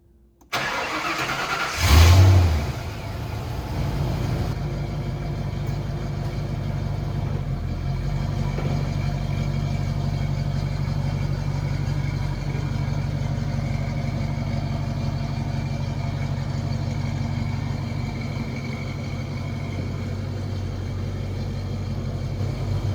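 A restored Ford Falcon GT engine cranks and catches with a loud revving burst, then settles into a steady, rumbling idle that carries on evenly to the end.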